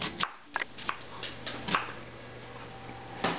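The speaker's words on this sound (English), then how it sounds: "okay, I have chopped up my cabbage." Half a head of cabbage is cut into thin slices with a knife, giving a series of soft, irregular chops with a quiet pause midway.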